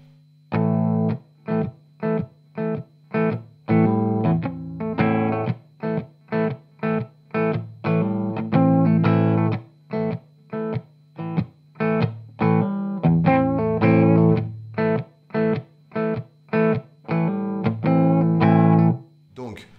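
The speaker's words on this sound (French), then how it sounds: "On vient juste bloquer les cordes, comme ceci, avec la paume de la main" Distorted electric guitar plays short, choppy palm-muted strums in a tight rhythm, each chug cut off quickly, with brief pauses between bursts.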